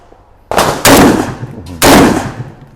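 Two loud, sharp buckshot blasts from a Mossberg 940 Pro Tactical semi-automatic shotgun, the first at about half a second and the second a beat over a second later, each followed by a ringing decay outdoors.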